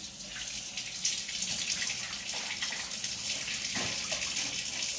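Kitchen tap running water into a home sink, a steady soft gushing flow that stays even throughout, close and fairly quiet with no talking.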